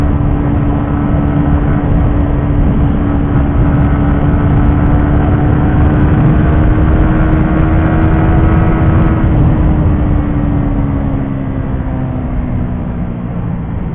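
A 2020 Suzuki GSX-R 150 motorcycle's single-cylinder engine drones continuously under load on a test ride, loud and close, with a steady held pitch that dips slightly as the rider eases off near the end.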